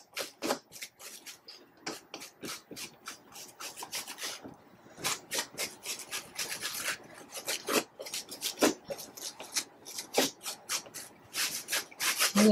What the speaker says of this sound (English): brush the edges of this bias. I'll do this side on the front and back.